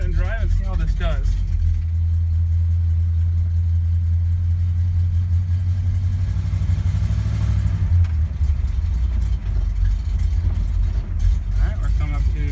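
A car with a newly installed Mr Gasket vacuum canister for brake pressure is put in drive and pulls away, its engine a steady low rumble that lifts briefly as it accelerates, heard from inside the cabin.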